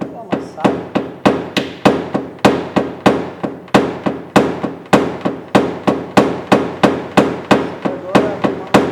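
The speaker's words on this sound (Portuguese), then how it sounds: "agora eu estou abrindo utilizando o pino." Sharp, ringing taps of a metal pin knocking out a small dent in a car body panel, a close, loud, steady series of strikes at an even pace.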